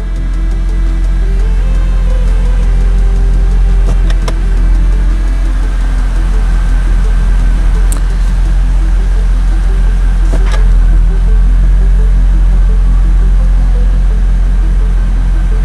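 A Volvo S80 V8 engine runs steadily at idle, a loud, continuous low hum with a few faint clicks over it and no voices.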